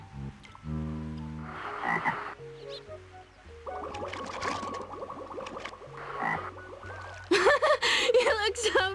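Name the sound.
frog croaking in the video game Legend of Mulan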